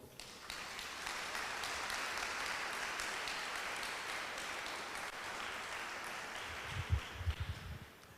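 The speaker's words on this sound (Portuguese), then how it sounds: "Você pode aplaudir ao Senhor?" A church congregation applauding during a service, a dense, even roar of many hands clapping for several seconds, followed near the end by a few low thumps.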